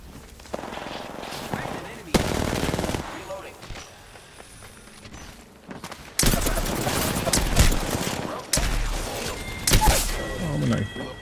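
Gunfire in Apex Legends, with bursts of rapid automatic shots and single cracks coming in clusters among footsteps and game noise, while players talk over the action.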